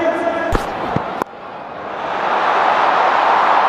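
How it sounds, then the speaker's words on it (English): Cricket stadium crowd at an RCB versus PBKS final, a dense roar that swells steadily over a few seconds, with a couple of sharp claps or bangs early on under commentary. "A lot of noise today in this crowd."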